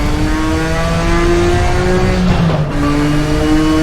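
A Nissan R32 GTR accelerates hard around the Bathurst circuit, its engine loud and close from inside the car, revving up through the gears with a brief dip at a shift before climbing again.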